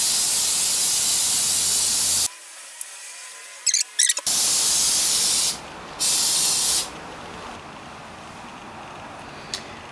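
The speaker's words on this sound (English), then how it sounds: "I can always spray the platter a little bit later on" Spray paint hisses from an aerosol can onto a Technics turntable platter in loud bursts: one long spray, a pause, short spurts, then two more sustained blasts, all close and with no talking.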